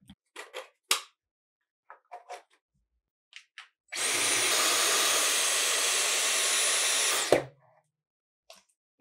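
A Dyson cyclone prototype mod fitted to a Roomba S9 robot vacuum runs as a loud, steady whooshing whir for about three seconds, then cuts off, with scattered light clicks and handling noises before and after.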